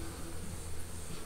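Honeybees buzzing steadily up close at a backyard beehive, a continuous low droning hum with no talking.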